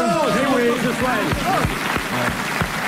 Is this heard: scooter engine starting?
no